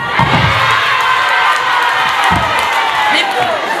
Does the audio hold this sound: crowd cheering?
yes